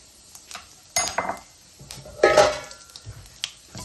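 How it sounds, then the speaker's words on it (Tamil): Fenugreek and spices being sautéed in a pan for crab curry, heard as a few close clinks and scrapes of a spoon against the pan, with soft frying underneath. "வெந்தயம் 2 கரண்டி போடுறோம்."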